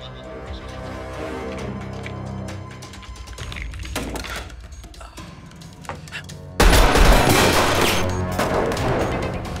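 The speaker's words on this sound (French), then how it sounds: "Il y a encore des coups de feu." Gunfire in a Jean-Claude Van Damme action film plays as a stretch of sharp cracks over a dense music-and-effects bed, building to a loud, sustained burst of shots in the final few seconds.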